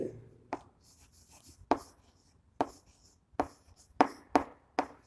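Someone writes on a board during a chemistry lesson on naming coordination compounds: sharp, close taps and short scratchy strokes come in uneven clusters, with no talking over them.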